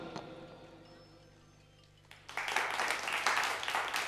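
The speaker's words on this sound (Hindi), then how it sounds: "एक बार इनके लिए जोरदार तालियां।" At a school annual function, applause for a children's dance performance bursts in after about two seconds of quiet room tone and continues loud and dense to the end.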